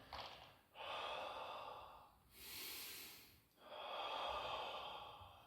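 Long, forceful breaths during a leg-raise exercise: three drawn-out hissing exhalations with short pauses between them, close and clear with no talk.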